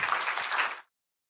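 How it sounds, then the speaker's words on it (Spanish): A short burst of audience applause for panelists at a talk, dense clapping lasting under a second before cutting to silence, with a brief return of sound at the very end. "Les brindamos un fuerte aplauso."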